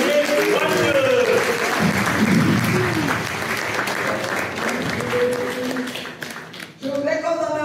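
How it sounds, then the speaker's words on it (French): Applause from an audience in an Abidjan hall honoring a speaker named Côte Désiré, a steady wash of clapping with cheering voices that holds near-constant loudness for several seconds, dips briefly near the end, then swells again. "Je vous invite, mes frères et sœurs, à réserver une bonne salle d'applaudissement à Côte Désiré Wanteux."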